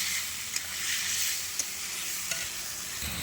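A ground paste of ginger, garlic, onion, tomato and green chilli hits hot oil in a pan, letting out a loud, continuous hissing sizzle broken by a few sharp spits.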